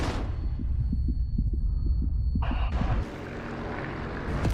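Aircraft engine roar from a warplane in the DCS combat flight simulator, a loud continuous drone with rhythmic low pulses that shifts abruptly to a harsher, brighter whine partway through, like a damaged engine straining before going down.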